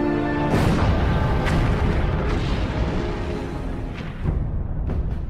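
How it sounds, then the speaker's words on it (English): Heavy bomb explosions in an American air raid on the Japanese battleship Musashi during the Battle of Leyte Gulf, a dense, continuous roar of booming blasts with several sharper bursts, loud and close throughout. "The American bombers score 10 additional hits."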